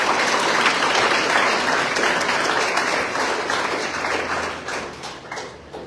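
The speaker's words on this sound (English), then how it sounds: "Please let us give us a big round of applause." Big round of applause from a school audience welcoming the chief guest at an inauguration at Sacred Heart of Jesus school in a Goan village, a dense, steady wash of many hands clapping that fades slightly toward the end.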